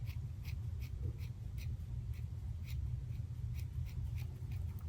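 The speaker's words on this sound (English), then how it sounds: "You can tell those scissors need to be sharpened." Rhythmic snipping of dull scissors cutting through ribbon, short crisp strokes repeating every fraction of a second over a low steady hum.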